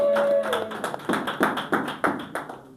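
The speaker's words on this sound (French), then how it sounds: "est-ce qu'on peut les applaudir?" Congregation at a church service gives a short round of rhythmic clapping, roughly ten distinct claps close by, following a brief tone at the start.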